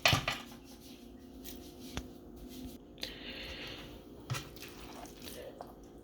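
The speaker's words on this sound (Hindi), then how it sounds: "ये प्लेट में हम डाल रहे हैं, सर्विंग प्लेट में" Sweet milk vermicelli (seviyan) is spooned onto a serving plate, with soft wet squishes and a handful of light clinks of a spoon against dishes, close and fairly quiet.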